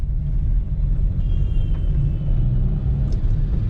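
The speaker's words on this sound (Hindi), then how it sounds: "फर्स्ट गियर पे गाड़ी चलाएं हम। ठीक है, सेकंड गियर ले गए," A car engine running in second gear gives a steady, close, low rumble with a faint whine over it and no one talking.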